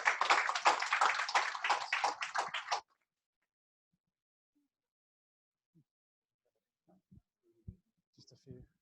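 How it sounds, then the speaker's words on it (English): A seminar audience claps for the speaker, a brief burst of many hands applauding for under three seconds, then it cuts to near silence broken by faint scattered knocks and movement. "Big round of applause for Dr."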